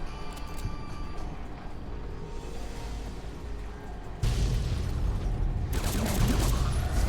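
Explosions in Fallout: New Vegas during the Lonesome Road add-on, a steady rumbling din that swells suddenly louder and denser partway through, with heavy booming bursts and crackling blasts continuing to the end.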